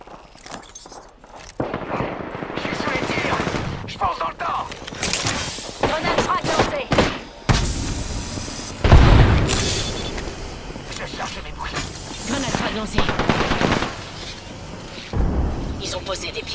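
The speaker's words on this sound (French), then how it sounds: "Je me fais tirer dessus." Gunfire in the Apex Legends video game: repeated bursts and shots with blasts, loud and dense throughout, mixed with spoken French character voice lines.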